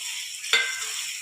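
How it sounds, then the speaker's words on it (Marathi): Two finely chopped onions sautéing in hot oil over medium heat for a spicy pav dish, a constant close sizzle broken by one brief stir or toss midway, with no talking. "कांदे आपल्याला छान सोनेरी रंग येईपर्यंत परतून घ्यायचे आहेत"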